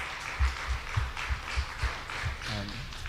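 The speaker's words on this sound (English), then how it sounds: "So please, a round of applause." Brief applause from an audience thanking panel presenters at a university research hub event, a light scattering of claps with a few distinct hand strikes, fairly sparse and moderately close, ending quickly.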